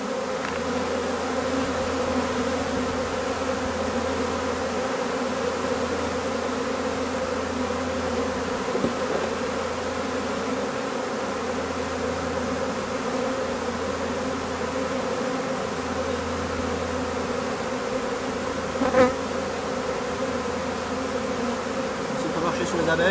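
Honey bees hum in a dense, continuous drone around an open hive outdoors on grass, a steady close buzz with swarming wingbeats rising and falling slightly throughout.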